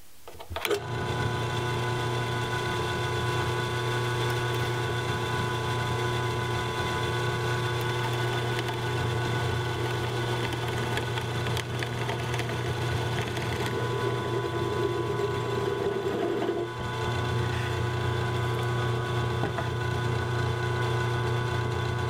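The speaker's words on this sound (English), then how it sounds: "some drill holes in here to allow it to move around some" A drill bores holes in a wooden logo piece. A steady, droning motor hum continues without a break for the whole stretch, close and fairly loud, with a slight shift near the end.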